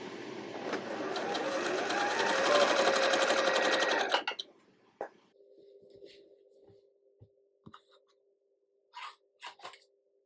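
A sewing machine stitches white quilt fabric along a line in a fast, even whirring run for about four seconds, then stops, leaving a faint hum and a few soft handling clicks.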